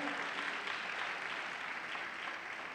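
Church audience applauding during a gospel show, a steady wash of clapping held at an even level throughout, moderately distant and without any clear voices over it.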